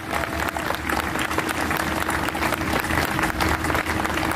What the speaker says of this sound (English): Please give a round of applause to these people.